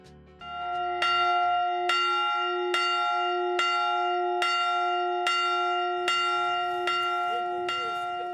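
A church bell tolls steadily, about once per second, each strike ringing with a rich sustained hum; some faint background murmur toward the end.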